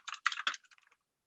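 Short burst of keystrokes on a computer keyboard as a name is typed, a quick run of close clicks trailing off into lighter taps.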